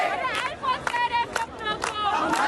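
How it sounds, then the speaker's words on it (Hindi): Protesters at a rally in Mumbai's Azad Maidan chant slogans together in loud, rhythmic bursts of massed voices, several pulses in quick succession. "मुंबई के आजाद मैदान में जमा हुई ये भीड़ शर्जील के समर्थन में नारे लगा रही है"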